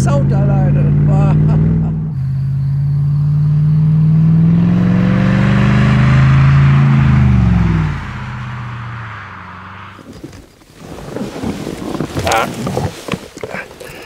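A 2008 Mercedes SLR McLaren Roadster's engine booms loud and close, a deep sustained roar that rises in pitch, dips, and fades out, followed by someone talking.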